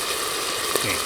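Oil sizzles and crackles steadily as pork stir-fries in a hot pan outdoors in the forest, a dense continuous frying hiss with a few brighter pops, close by and without talk.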